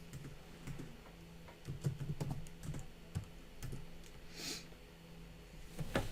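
Computer keys clatter in quick, uneven bursts of soft clicks over a faint steady hum, close and fairly quiet, with short pauses between runs of typing.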